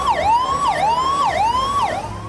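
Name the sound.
ambulance siren stuck in traffic during VIP movement in Agra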